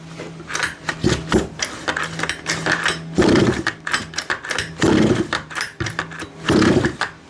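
A 5th scale RC petrol engine, freshly carb-cleaned and still full of fuel, is pulled over repeatedly without catching: loud close bursts of cranking and sputtering in a regular rhythm, separated by short pauses.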